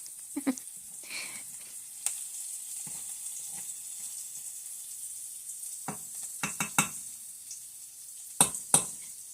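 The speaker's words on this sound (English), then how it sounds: "time to stir the vegetables around again" Vegetables frying in a pot for ground turkey rice soup hiss with a steady sizzle, broken by a few sharp clicks and scrapes of a spoon stirring against the pot.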